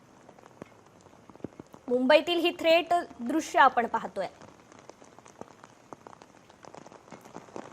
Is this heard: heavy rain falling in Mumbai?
yes